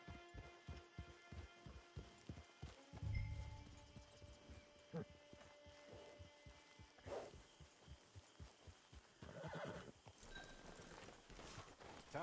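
Horse hooves clip-clopping in the video game Red Dead Redemption, a steady rhythmic trot of close hoofbeats that later becomes looser, under a humming music bed with occasional snorting and faint voices.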